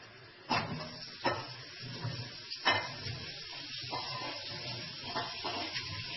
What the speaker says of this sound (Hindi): तमाम शिमला मिर्च और प्याज को 3 मिनट के लिए फ्राई करेंगे।